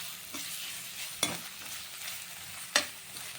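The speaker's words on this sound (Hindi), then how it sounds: "सबसे पहले डाल देंगे इसमें हम अपनी लंबी लंबी प्याज।" Long-sliced onions sautéing lightly in hot oil for Indian-style pasta, a steady soft sizzle broken by two sharp stirring clatters of a spoon against the pan.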